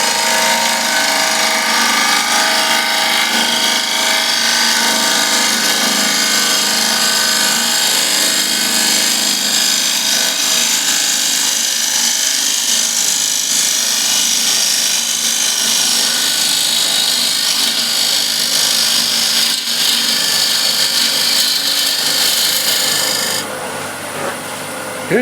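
A bowl gouge cleans up the surface of a turned wooden disc vase on a lathe, cutting a small reverse curve; a loud, continuous rasping scrape holds steady for the whole stretch and then eases off near the end.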